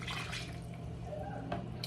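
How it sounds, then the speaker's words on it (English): Water pours into a cooking pot in a home kitchen, a steady splashing stream at moderate volume with a small splash near the end. "you add the water."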